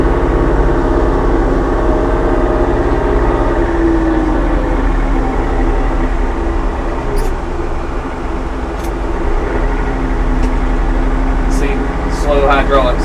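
A tractor engine runs steadily while its slow hydraulics work a load, producing a loud, continuous droning hum with whining hydraulic tones and a few brief clicks and squeaks toward the end.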